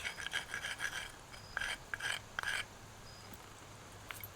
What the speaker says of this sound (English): grind the edge and the platform to flatten and roughen it, and the edge to strengthen it.